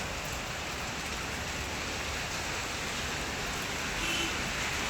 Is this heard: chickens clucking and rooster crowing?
no